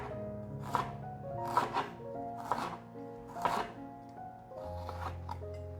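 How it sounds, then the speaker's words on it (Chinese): A knife slices fresh ginger on a cutting board, making about five distinct crisp cuts at a steady rhythm, close and fairly quiet, with no talking. "把姜切片。"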